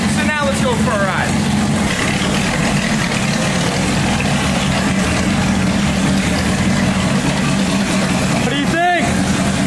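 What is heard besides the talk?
supercharged 1965 Ford Mustang engine running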